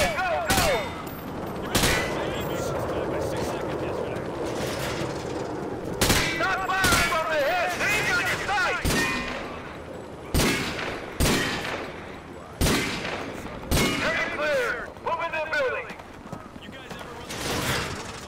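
An M4 rifle fires in Call of Duty: Modern Warfare 2, sharp loud shots and short bursts cracking every second or two over battle noise and faint radio-style chatter.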